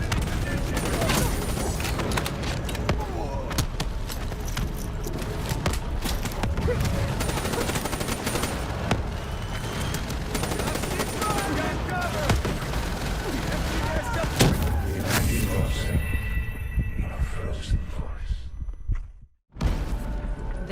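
Sustained gunfire and grenade blasts from a Call of Duty: Black Ops 3 firefight, dense and loud throughout with overlapping shots and booms, briefly cutting out near the end before the battle noise returns.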